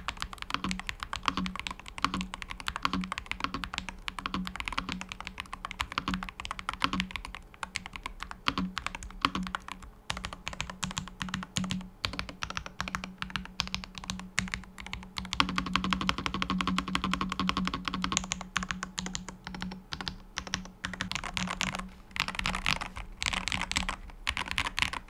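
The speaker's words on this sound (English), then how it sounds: "a quick sound test to give you a better idea of how this keyboard sounds" Continuous rapid clacking of keys on an ASUS Falchion Ace HFX Hall Effect mechanical keyboard, close and crisp, with an uneven typing rhythm and no talking.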